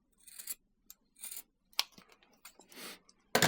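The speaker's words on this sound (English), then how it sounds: "So you really need trauma shears to cut this" Trauma shears snip and slice through first aid tape in several separate crisp cuts and rustles, irregular and close by, with a sharper final snip.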